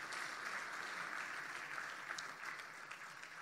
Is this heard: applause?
yes